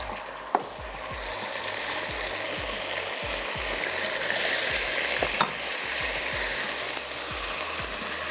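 Garlic-ginger paste and potatoes fry in hot oil while a spoon stirs them, giving a steady close sizzle with repeated scraping, ratcheting strokes of the spoon against the pot and no talking.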